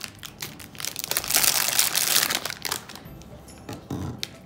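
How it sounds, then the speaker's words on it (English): Crinkling plastic packaging is handled and torn as a plastic jar is taken out, giving close, irregular crackles and crunches that swell in the middle and then trail off into scattered rustles. "I'm going to go ahead and take out the plastic jar"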